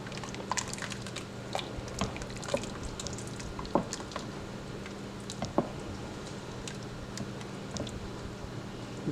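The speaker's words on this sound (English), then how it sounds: "just continuously stir all over the bottom so that you don't have anything stick" Melting queso is stirred continuously across the bottom of a pot, giving soft wet squelching with small scattered spoon clicks, close and quiet.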